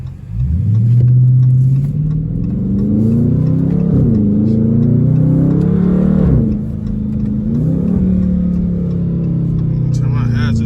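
Several Dodge Charger Scat Pack cars with deleted mufflers rumble past a roadside spot, their loud, deep exhaust swelling and dipping as the engines rev steadily for about ten seconds.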